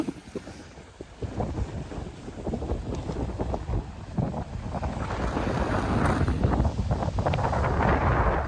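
Strong sea wind buffets the microphone in loud, rough gusts alongside waves at the shore, building steadily louder and fuller toward the end with no voices heard.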